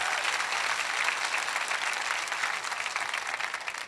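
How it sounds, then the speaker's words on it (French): A church congregation gives sustained, even applause, a dense wash of many hands clapping at a steady level from start to finish. "Quelqu'un devrait applaudir"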